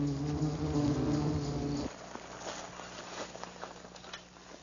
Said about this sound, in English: an underground colony of western yellowjacket wasps